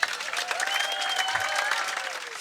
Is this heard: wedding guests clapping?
yes